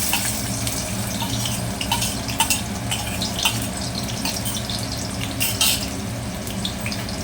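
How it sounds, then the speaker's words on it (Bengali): Sliced onions hit hot oil in a home kitchen for a pui shak and small shrimp dish, giving a dense, steady sizzle close by with faint clinks and watery crackle throughout. "আমার তেলটা গরম হয়ে গেছে। আমি এখন জিরি জিরি করে কেটে রাখা পেঁয়াজগুলো দিয়ে দিচ্ছি।"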